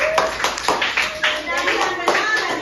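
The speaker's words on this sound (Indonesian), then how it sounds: "Tepuk tangan dulu untuk kelas 5B." A class of 5th-grade schoolchildren applauds together in a classroom, a steady wash of many small hands clapping for under three seconds, with a voice faintly mixed in.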